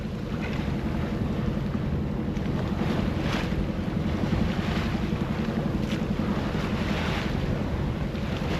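Sailboat motoring under engine and sails at about five knots near Frioul off the Mediterranean coast, a steady low engine rumble mixed with wind buffeting the microphone and rushing waves against the hull.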